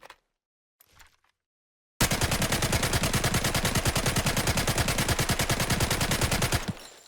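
A sustained burst of automatic weapon fire from the Delta Force video game rattles loud and steady for about five seconds after a near-silent opening, with a fast even rhythm of shots and no talk.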